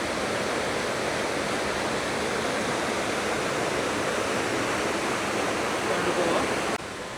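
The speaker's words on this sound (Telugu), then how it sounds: "ఈ ఫాల్స్ మొత్తం క్రేజీ ఉంది." Ladies Bath Falls on Mount Hotham in Australia pours with a steady, close, full-bodied roar of rushing water that stays constant throughout, with no breaks.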